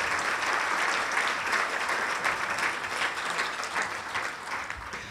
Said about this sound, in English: we should have applause for Curtis Kane and the other guys in the room who were involved since way back when